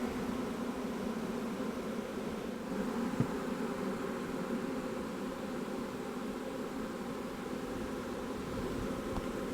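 A large caught swarm of honey bees buzzes steadily around a hive box, a dense, even drone that holds at a constant level throughout with no voices.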